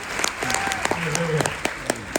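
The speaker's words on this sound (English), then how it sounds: "Let's give Heidi a round of applause for coming to help me." Audience applause at a cruise ship magic show aboard the MSC Seashore, with scattered sharp claps over a cheerful crowd while a voice calls out above it.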